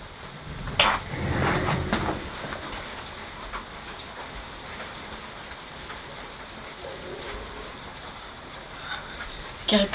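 Steady dense patter of video game hail against a surface, loud and continuous, with a couple of sharper knocks near the start and end.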